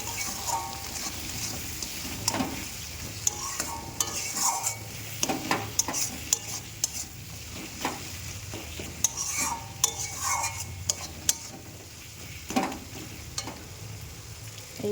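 A spoon stirs Kashmiri chili powder, salt, turmeric and sugar in hot oil in a pan, with steady frying sizzle and repeated scraping strokes plus occasional utensil clinks, close and moderately loud, no talking.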